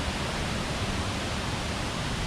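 A high river rushes loudly near the Murundao waterfall on Flores island, a dense, steady roar of turbulent water close by with no breaks.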